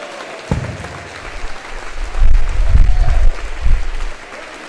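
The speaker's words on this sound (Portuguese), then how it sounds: "Bate palma e aplaude a Jesus" A church congregation claps and applauds loudly in a sustained burst that swells, peaks, then tapers off.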